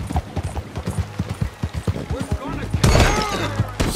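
Horse hooves clip-clop in Red Dead Redemption 2 in a steady, fairly quick trotting rhythm, close and clear, ending in a louder, rougher burst of movement.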